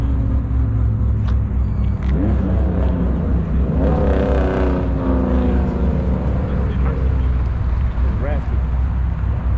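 Loud, close engine rumble from a car with straight pipe exhaust at a car meet, rising in a rev around the middle, with people talking over it throughout.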